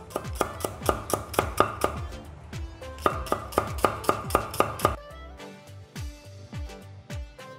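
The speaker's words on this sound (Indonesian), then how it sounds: "Kita dah potong nipis-nipis ni" Knife chopping ingredients thinly on a board for Nyonya chicken zhang, sharp rapid chops in quick rhythmic runs of about ten strokes with short pauses, close and crisp, no talking.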